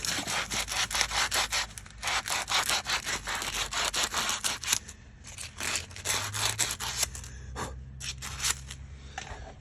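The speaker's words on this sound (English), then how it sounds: "Got some sandpaper. Clean that off real easy." Sandpaper scrubs rust off a metal part on a Ford limited-slip differential in quick, rhythmic back-and-forth strokes, close and steady for about ten seconds with a few brief pauses.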